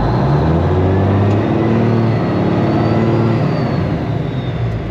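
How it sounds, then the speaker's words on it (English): A vehicle pulling a trailer strains while stuck in mud on a farm, its engine droning loudly and unevenly with pitch wavering as it revs, close by and without talk. "we're stuck in the mud with the trailer"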